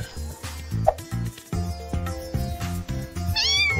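A cartoon kitty in an animated Brawl Stars short meows over a bouncy music track, with a clear mew near the start and a rising, wavering cat cry toward the end.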